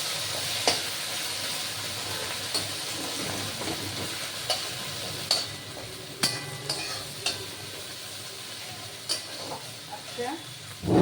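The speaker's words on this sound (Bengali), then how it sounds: "প্রায় ভাজা হয়ে এসছে," Okra fries in a pan with a steady sizzle broken by repeated stirring scrapes and spatula taps, heard close.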